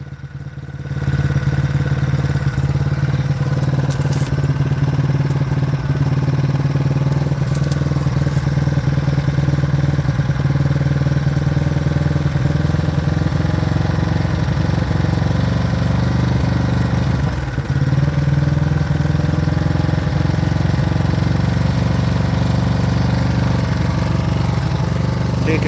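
A new Agen1600c generator runs steadily on half choke while warming up, a close, continuous mid-pitched engine drone with a faint rattle, holding even for nearly half a minute.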